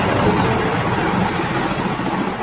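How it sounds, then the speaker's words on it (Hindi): Loud, steady rumble and hiss of a train rolling through a railway station, filling the background continuously with faint clatter and no clear pauses. "ये रेलवे स्टेशन पे बैठे हो क्या तुम, इतना शोर आ रहा है"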